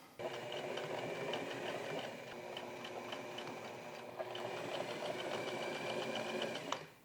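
A sewing machine darns a hole in a t-shirt sleeve with a fast, even stitching chatter, quiet and close, with a brief pause midway before the run resumes and ends with a click.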